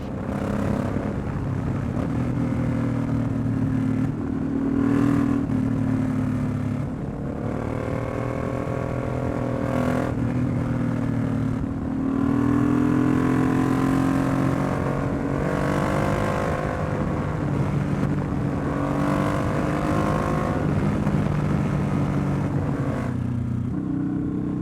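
A heavy engine roars steadily and continuously as a motorcycle rides along, its pitch rising and falling with throttle and gear changes, close and loud.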